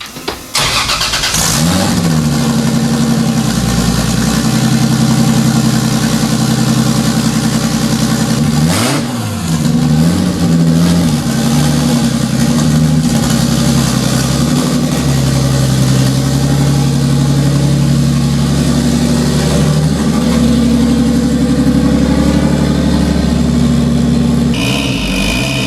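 A Nissan 240SX race car engine runs loud and steady for the whole stretch, with a strong low drone, revving swells near the start and around nine seconds, and a brief change near the end, with no talking.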